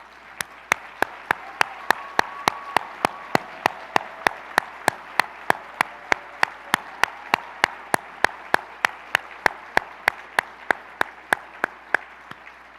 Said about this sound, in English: So please rise and let's all give them a warm round of applause.